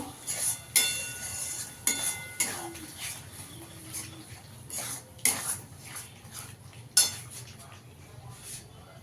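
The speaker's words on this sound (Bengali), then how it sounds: "ওই মশলাটাকে ভালো করে কষিয়ে নেব" Masala for masala chicken stir-fried in a pan over a low gas flame after whisked yogurt goes in, with a spatula clinking and scraping against the metal in irregular, sharp knocks over a steady low sizzle and kitchen background.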